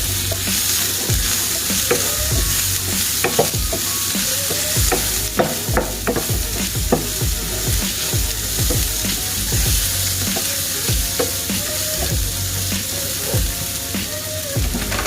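Butter sizzles loudly in a pan for beef stroganoff, a continuous crackle broken by frequent clinks and scrapes of a utensil stirring close by, with no voices.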